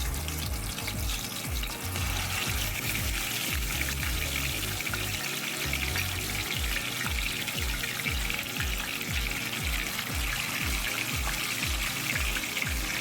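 Marinated chicken shallow-fries in oil in a pan over a medium flame, giving a steady, moderately quiet sizzling hiss with faint rhythmic crackles and no voices.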